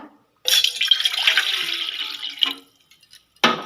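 Water poured from a vessel for a herbal kadha, a steady close splashing stream lasting about two seconds, then a short second pour near the end, with no talk.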